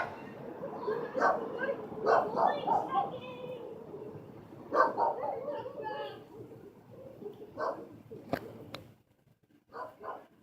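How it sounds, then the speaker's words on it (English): A dog that has just been run over by a car whines and yelps in short, strained bursts outdoors, with people talking over and between the cries. "a car ran over a freaking dog and it's whining"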